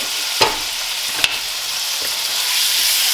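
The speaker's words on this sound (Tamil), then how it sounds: "கொஞ்சம் ஆயில் ஆட் பண்ணிட்டு இந்த சிக்கன் அதுக்குள்ள ஆட் பண்ணுங்க" Chicken pieces sizzle steadily in oil in a pan for Singapore-style noodles, a close, even hiss punctuated by two sharp clicks of stirring or utensil contact.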